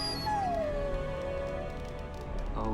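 A dog in the video game Dragon Age: Origins whimpering, a long high falling whine up close that trails off into a softer whimper over a low background hum.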